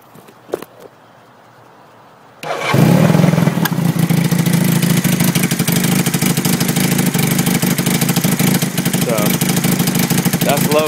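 A 1980 Honda CM400 cafe racer motorcycle engine starts after a quiet moment and runs steadily at low throttle, a loud, close, continuous chugging rumble with dense firing pulses.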